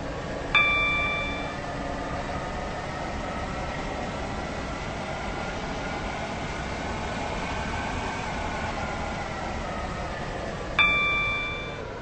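Steady interior rumble of a commuter train to Newry, rolling along with a constant low hum, broken by two chime tones near the start and end.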